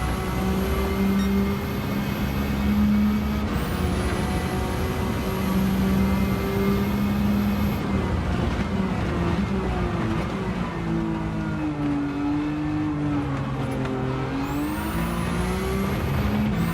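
A Nissan GT-R R32 race car tuned to 700PP laps a circuit in Gran Turismo 7, its engine droning loud and continuous with rising and falling revs, whining gear changes and a high turbo-like whistle.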